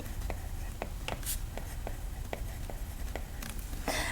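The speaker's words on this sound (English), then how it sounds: "so then we write down our child care" Pen writing budget entries on paper, with quick scratchy strokes and light taps in an irregular rhythm, close and soft over a steady background hiss.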